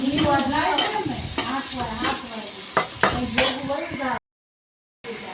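Mixed vegetables for pulao, seasoned with salt, chili, turmeric and coriander-cumin powder, sizzle over a medium flame while a spoon stirs and scrapes the pan in uneven strokes; a voice talks over the cooking, and the sound cuts out briefly.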